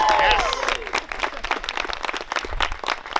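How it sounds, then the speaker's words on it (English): Wedding guests applaud the couple with a dense burst of clapping that starts loud and thins slightly, while a voice speaks briefly over it at the start. "round of applause for the beautiful couple"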